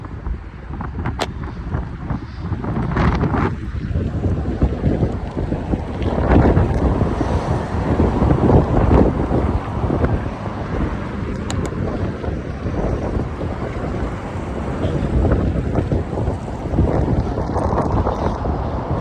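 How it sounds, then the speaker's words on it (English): Strong wind blows outdoors near big spruce trees, a loud sustained roar with gusty surges and buffeting across the whole stretch, no voices. "That is a grand bit of wind here."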